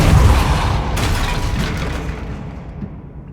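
Depulso force spell cast in the video game Hogwarts Legacy on PC, a loud close booming burst that rolls off and fades over about three seconds.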